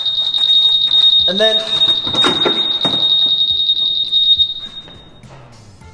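A 2021 Honda Super Cub's anti-theft alarm shrieks with a loud, steady high-pitched electronic tone, close by, then cuts off near the end while someone talks over it.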